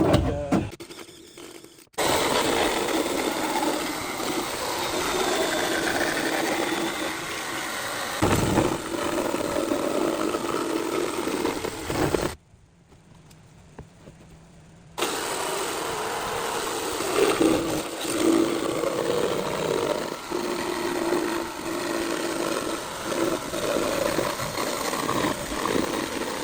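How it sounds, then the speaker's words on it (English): Harsh, continuous buzzing of a drill and jigsaw cutting into a plastic 5 gallon bucket, loud and close, running for long stretches with a brief pause near the start and a longer gap partway through. "I'm going to drill a hole, jigsaw from here."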